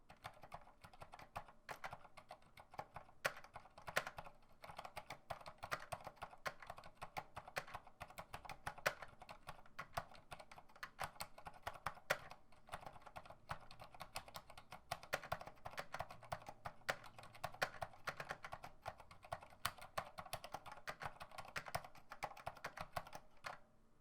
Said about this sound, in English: So you can see from the type test, it's very quiet for a mechanical keyboard.